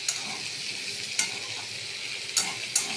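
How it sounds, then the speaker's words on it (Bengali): Potato, taro and onion sizzle steadily in a frying pan, with a few sharp scraping strokes of a stirring spoon spaced irregularly over the hiss. "আলু গাঁটি কচু ভাজা হবে, তার সঙ্গে পেঁয়াজটাও ভাজা হবে।"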